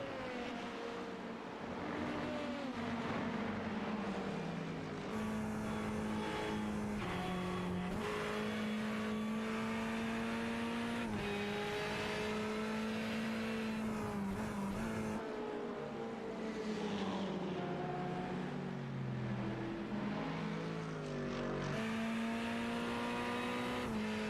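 Race cars roaring through the Watkins Glen circuit in iRacing, one engine droning steadily close by and shifting pitch as it revs and lifts through corners, with other cars audible around it for the whole stretch.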